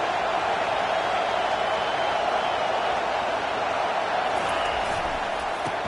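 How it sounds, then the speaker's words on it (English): Stadium crowd in an NCAA college football video game roaring steadily on a third-down defensive stand, a dense continuous wash of crowd noise at even volume with no distinct talking. "Decibels rising as the crowd gets behind this defense on 3rd down."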